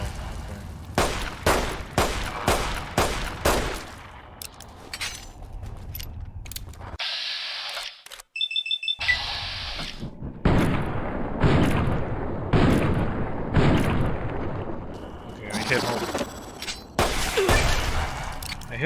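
Gunfire rings out in Fallout: New Vegas Dead Money, the game set in a ruined casino city. Sharp shots come in bursts with short pauses between them, loud and close, and a brief metallic, tonal game effect sounds midway.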